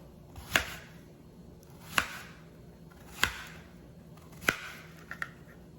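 A knife chops plantains sideways into slanted slices on a cutting board, four sharp, evenly spaced knocks about a second and a quarter apart, ending with two quick lighter taps, close and fairly quiet with no voices.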